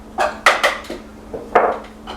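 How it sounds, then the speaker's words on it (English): A medium onion drops into a pan in a few quick knocks and clatters, two clusters of sharp impacts against metal with short pauses between. "So we've got a medium onion getting added to our pan"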